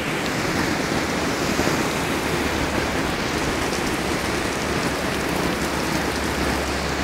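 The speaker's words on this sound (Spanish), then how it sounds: "Ahí está la riada." Torrential rain and flood water rush through the streets of Benidorm on the coast, a dense, loud, continuous roar of pouring and surging water with no break and no voices.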